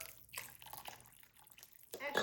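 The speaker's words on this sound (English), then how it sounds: "we're just gonna cover them with water, about 1 inch" Water poured from a container into a crock pot of dry pinto beans, a faint, uneven splashing and trickling close by that swells again at the end.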